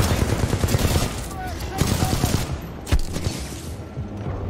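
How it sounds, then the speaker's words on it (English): Gunfire in Titanfall 2, a Mosin rifle among the weapons, as loud overlapping shots and bursts in a busy firefight, with voices speaking over the action. "Hey, who shot the Mosin?"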